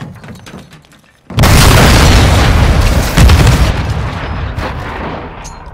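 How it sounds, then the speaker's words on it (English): An explosive charge detonates in Call of Duty: Modern Warfare II Search and Destroy, a sudden loud boom after quiet that rolls into a long, sustained roar of rumbling debris and blast noise. "set a charge on the target and detonate it"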